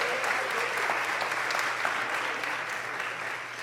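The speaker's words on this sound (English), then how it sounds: "Give her a round of applause" Audience at a comedy hypnotist show on a college stage applauds steadily for the full stretch, a dense even wash of clapping that fades slightly toward the end, with no voices on top.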